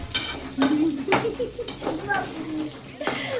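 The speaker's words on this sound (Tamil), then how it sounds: "இப்போ இந்த வெங்காயம் வதங்கணும்" A handful of small onions and a few large garlic cloves sauté for chutney, sizzling under repeated sharp spoon clacks and scrapes against the pan, close and fairly loud.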